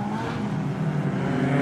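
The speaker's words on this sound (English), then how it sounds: "Third car just going by up the main straight away is Robert Little Hales" A race car on the main straight at Gympie Speedway during the National 4's final roars past at speed, the engine note loud and sustained over the brief moment.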